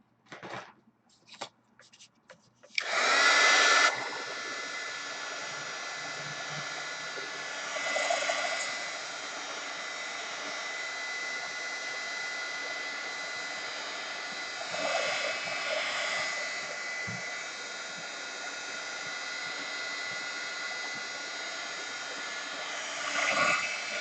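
A hair dryer blows over wet paint, starting after a few short clicks and handling noises, then running as a steady loud whoosh for the rest of the time with slight variations in pitch and no talk.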